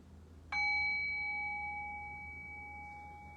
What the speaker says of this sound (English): In the next breath, I'll ring the bell and we'll come back.